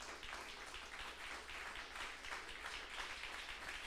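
Congregation applauding during a church celebration service, a soft but continuous patter of many hands clapping, heard at a distance and evenly spread across the moment.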